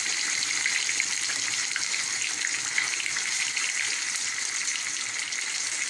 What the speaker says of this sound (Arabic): لازم تسمعوا الطشطشه دي